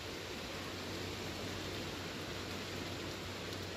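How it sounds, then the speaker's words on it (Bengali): Steady rain falls through a Bengal evening, with a soft, even hiss from start to end. It is fairly faint and continuous, and no one speaks. "আমাদের এদিকে কীরকম বৃষ্টি শুরু হয়েছে দেখো"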